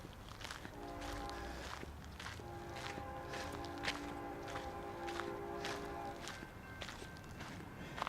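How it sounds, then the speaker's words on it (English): A distant train horn sounds in sustained tones behind quiet outdoor noise and soft footsteps outside an abandoned bar in Casa Grande, faint and far off. "I hear the train."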